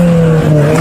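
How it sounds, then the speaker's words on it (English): A suspect's car engine revs hard and steadily while he stays pinned in a police chase, a loud sustained tone holding throughout with a brief dip in the middle. "He continues revving his engine"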